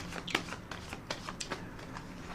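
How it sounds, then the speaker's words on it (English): Tarot cards being shuffled and riffled by hand at close range, a run of soft papery flutters and snaps with a few sharper riffle bursts, no voices. "I'm going to put another shuffle on the cards and a rifle"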